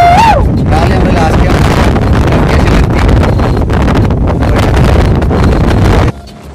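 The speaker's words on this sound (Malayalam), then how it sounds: "പിന്നെ മുകളിലേക്ക് എത്തിയപ്പോ ഭയങ്കര കാറ്റ്." Strong wind buffets the microphone atop the Kodikuthikkallu viewpoint on Cheriyam hill, a loud, continuous roaring rush that fills the scene for about six seconds before dropping abruptly to a quieter gusting.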